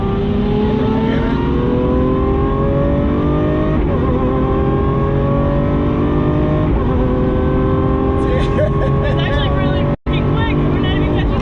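A Mercedes with a twin-turbo V12 pulls hard, its engine note climbing steadily in pitch through the gears, loud and continuous from start to finish, with a brief cut near the end.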